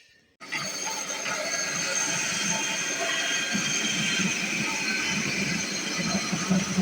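Carrots being grated for Korean carrot salad make a loud, steady rasping hiss that begins after a brief quiet moment and runs on without a break.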